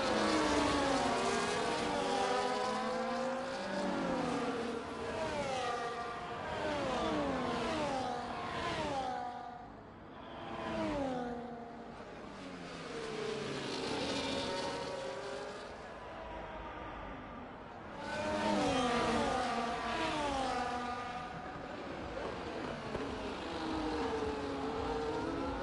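Race cars lapping the Las Vegas circuit in a sim racing game, with loud, whining engines rising and falling through gear changes as several cars pass close by in continuous waves.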